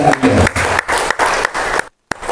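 Audience applause fills a hall at a political forum on women in politics, a dense steady clatter of clapping hands from a crowd that breaks off briefly near the end before a final scattered clap.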